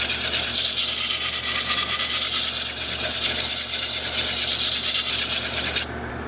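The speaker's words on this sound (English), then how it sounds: "sand the rest of it by hand up this way" Steady hand-sanding scrape with 80-grit paper across the inside of a spalted sycamore wooden bowl, a continuous close rasping hiss that stops abruptly near the end.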